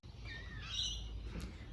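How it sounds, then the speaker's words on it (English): Noisy birds chirp around a home verandah full of houseplants in the late part of the day, faint sweeping whistled calls at a distance over quiet background hum. "They are the noisy birds."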